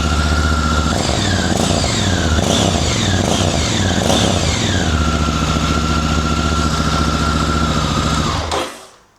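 A Honda Africa Twin motorcycle fitted with a FUEL exhaust, baffle in, idles loud and close with a deep tone, gives several quick throttle blips, then cuts off abruptly at the end.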